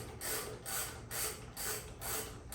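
A ratchet works loose the 10mm bolts on the carburetor plate of a Kohler engine, giving close, quiet, repeated bursts of rapid clicking in a steady back-and-forth rhythm with no talk.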